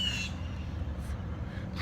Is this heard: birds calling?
yes